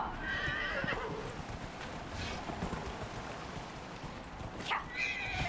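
A horse neighs and its hooves clip-clop in Dragon Age: Inquisition, out in the Frostback Basin wilds, with whinnies near the start and end over a steady, dense game soundscape.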